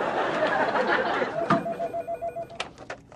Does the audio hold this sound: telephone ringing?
yes